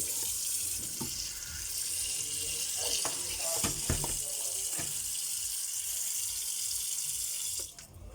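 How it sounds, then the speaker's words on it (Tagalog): Water running into a cooking pot holding pork ribs for sinigang, a steady pouring rush with a few light clinks, ending with a short cutoff near the close. "Lagyan natin ang tubig."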